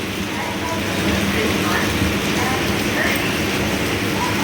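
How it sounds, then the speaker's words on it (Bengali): Heavy rain falling outside a train stopped at Howrah station: a constant, even wash of broadband hiss with faint mechanical rattles, lasting throughout at steady loudness. "দেখতে পাচ্ছ কীরকম বৃষ্টি হচ্ছে বাইরেটা"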